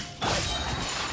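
An illusion shatters in Genshin Impact with a sudden bright burst of breaking glass that rings on as a sustained, shimmering crash.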